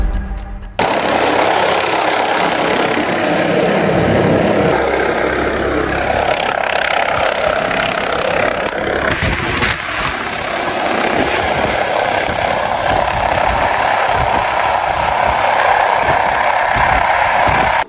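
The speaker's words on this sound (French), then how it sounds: "Par chance, les secours ont pu envoyer un hélicoptère." A mountain rescue helicopter's rotors chop and its turbine roars loudly and steadily in a winter mountain setting, close by, with no voices.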